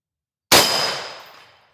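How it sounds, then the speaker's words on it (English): A single loud rifle shot from a Bear Creek Arsenal .458 SOCOM striking a bicycle, with a sharp attack, a bright metallic ring and a decaying outdoor tail after near silence. "I'm gonna shoot this bike."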